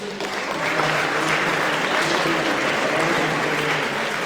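A full hall applauds the parents at the Jefferson Traditional 2021 8th grade ceremony, a loud, even wash of clapping that holds steady from start to finish.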